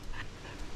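A dog on a walk outdoors gives a short, close whimper with quick panting breaths in a brief burst of under a second.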